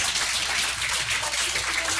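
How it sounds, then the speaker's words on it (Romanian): Audience applause at an event, a dense steady burst of many hands clapping that fills the whole moment without letting up. "Haideți să ne aplaudăm."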